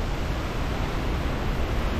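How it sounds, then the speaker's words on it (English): Steady, dense roar of Typhoon Mawar wind gusts with rain, a continuous loud broadband rush without breaks or voices. "gusts and stuff that's starting to look like a real typhoon here."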